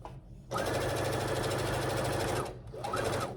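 Sewing machine stitching a back stitch on a boxy fabric pouch, a steady rapid mechanical whirr running about two seconds, stopping briefly, then starting again, close and fairly loud.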